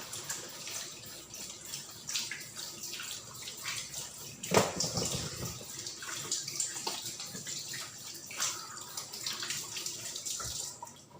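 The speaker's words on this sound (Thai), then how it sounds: "ขออนุญาตล้างมือก่อนนะคะ" Hands are washed under a running kitchen tap before salting fish for fermentation. The water flows and splashes continuously at close range, with one louder splash midway and irregular dripping patter, and no one talks.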